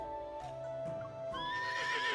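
A horse in the game Love and Deepspace whinnies, then its galloping hooves follow at a moderate distance over a background music bed, with no voices.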